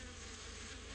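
Close, continuous insect-like buzzing of a bee sound effect from a children's read-aloud, steady and unbroken for about a second.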